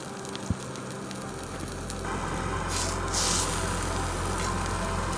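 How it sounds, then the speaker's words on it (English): Food sizzles on a stove inside a camper van, a steady close hiss that swells and brightens partway through as the sear takes hold, with no talking. "They're sizzling."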